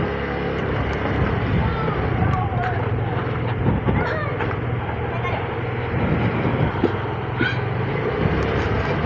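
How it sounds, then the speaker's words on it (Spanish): A motorcycle rides along the newly paved old road from El Carmen to Santuario in Antioquia, Colombia. A steady engine drone and wind rush carry on without a break, with a voice talking over it. "Vamos en la moto Y14."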